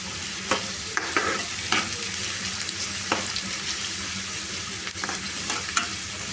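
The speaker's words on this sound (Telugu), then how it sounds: "ఇప్పుడు ఈ ఉల్లిపాయ ముక్కలు పచ్చిమిర్చి కొద్దిగా ఫ్రై అయిపోవాలండి." Sliced onions and green chillies fry in a pan for a korramenu fish curry, a close, steady sizzle broken by repeated light clicks and scrapes of stirring.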